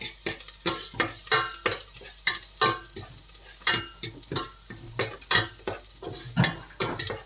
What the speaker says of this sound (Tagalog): igisa ko na yung aking bawang at saka sibuyas.